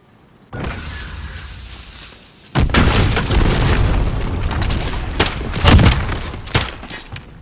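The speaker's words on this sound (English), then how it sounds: "Get away from the bomb!" A bomb goes off in a PS4 shooter match: a quiet lead-in gives way to a heavy boom, then a sustained roaring blast with further loud bursts and thumps rolling on after it.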